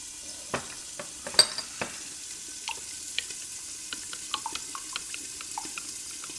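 Ground pork stir-frying in a pan, with soft sizzling and scattered small clicks and scrapes of utensils against the pan; a quiet, steady kitchen sound with no voices.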